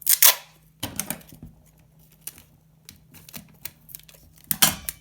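Adhesive tape is pulled and torn off the roll while a homemade stylus is being made, giving several short, sharp, crackling rips close by against a faint steady hum.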